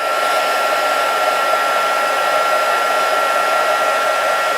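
A heat gun runs steadily at close range, melting glitter and heat-set adhesive for a craft project, making a constant loud blowing whir with a faint high whine that doesn't change throughout and has no voices over it.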